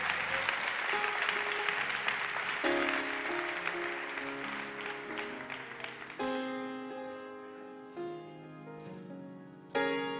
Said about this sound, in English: Now clap your hands and give God praise.